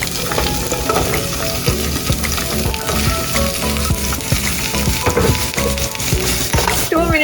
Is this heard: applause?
no